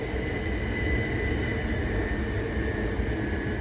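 A graffitied Class 375 electric multiple unit passes at Tonbridge station, a steady, loud rolling rumble of wheels on rail with a faint high whine running through, constant and close throughout.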